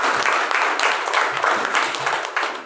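Applause fills the space for an honoured guru at a crowded gathering, dense and steady throughout, with a faint voice mixed in beneath the clapping.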